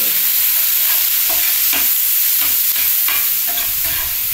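Spices and turmeric powder frying in a wide wok, stirred with a spatula in a steady rhythm of scrapes over a continuous close, loud sizzle.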